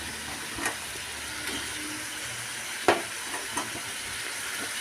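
Fried potatoes go into a pan of cooked-down spice masala, a continuous close sizzle broken by a few sharp clinks and scrapes of the spoon.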